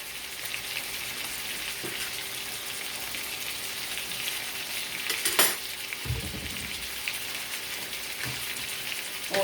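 An Angus boneless chuck steak sizzles in a frying pan with garlic, giving a steady rain-like hiss at moderate level, broken by a few utensil knocks and one brief louder clatter midway, no voices.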